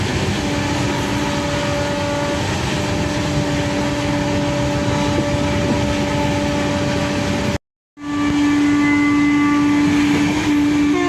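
A train rumbles steadily along the rails with a continuous mechanical roar and hum, briefly cutting out before resuming loud and close.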